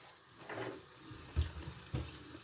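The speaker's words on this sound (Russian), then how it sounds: "С крана бежит чуть тепленькая водичка." Lukewarm water runs from a kitchen tap into a sink as orchids are watered, a quiet, steady trickle with a couple of soft splashes and knocks close by.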